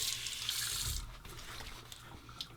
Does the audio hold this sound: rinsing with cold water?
yes